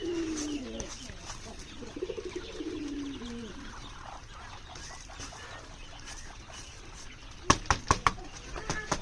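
Japanese quail in a crowded coop of around four hundred birds give soft warbling calls early on, over a low background murmur, then a burst of sharp wing flaps and clattering near the end.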